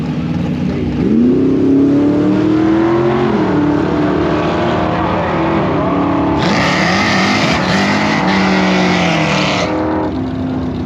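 A drag race car makes a pass: a loud, close engine roars and revs upward, its pitch sweeping and holding strong through the whole stretch, with a harsher upper layer joining midway.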